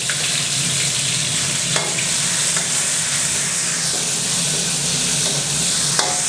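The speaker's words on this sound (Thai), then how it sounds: "เพราะว่าเดี๋ยวเราจะต้อง คั่วให้มันหายเหม็นเขียวนิดนึง" Fresh chilies stir-fry in hot oil in a pan for a spicy field-rat dish, producing a loud, steady sizzle with occasional scraping stirring strokes and no talk.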